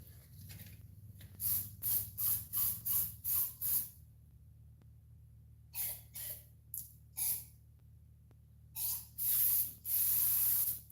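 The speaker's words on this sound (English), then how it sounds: "Hit it with some WD just to keep the surface from rusting." Short bursts of WD-40 aerosol spray on disassembled 1979 Honda CT90 engine parts, about a dozen quick hisses in a steady series, then a pause and a few longer, louder blasts close to the mic.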